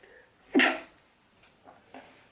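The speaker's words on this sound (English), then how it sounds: "I'm gonna sneeze." A single sharp sneeze bursts out close by during a makeup application, standing alone against a quiet room with only faint breathy sounds after it.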